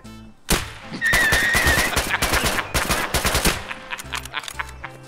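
A rapid string of close, loud gunshots in Escape From Tarkov runs for about three seconds, then thins into a few scattered shots and quieter rumble.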